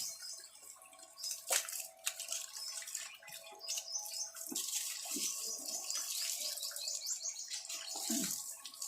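Cold water is poured and splashed while a child is bathed. A continuous hissing splash carries irregular sloshes and drips, close by, with small bird-like chirps faintly in the background.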